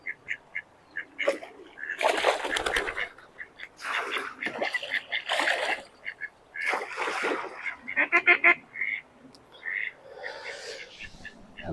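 Ducks on a fishery pond quack, flap and splash in a series of loud, irregular bursts, close by, with brief quieter gaps between the flurries.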